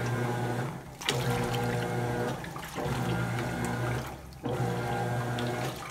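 A GE GTW680BSJWS top-load washing machine churns water while washing a rug, with steady sloshing and agitation rising and falling in waves, loud and continuous with no talk.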